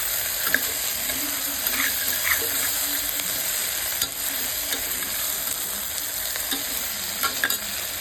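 Onion and potato curry stirred in a pan, a steady bubbling sizzle with repeated scraping strokes of the spoon close up, continuous and fairly loud with no voices.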